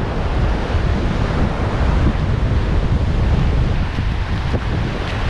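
Ocean surf rolls onto a beach in the Philippines with a constant loud roar, buffeted by heavy wind noise on the microphone and no talk.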